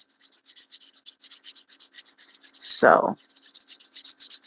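Acrylic nails being hand filed: a steady run of short, rhythmic rasping strokes, close and fairly soft, with a brief spoken word breaking in midway.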